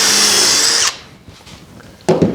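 A power drill bores into wood for a mitered-rail dresser top, one loud continuous high whine lasting about a second, then quiet, then a brief second burst starting up at the end.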